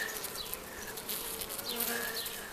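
Honeybees from a nosema-infected colony hum and buzz steadily all around, a dense droning swarm with individual insects whining past now and then, no voices.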